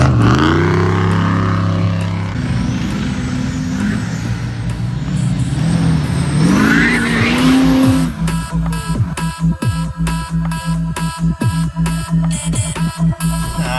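Off-road side-by-side vehicles race at an Enduro event, engines droning and revving loudly up close, then a rapid stuttering, pulsing engine note as one passes and accelerates.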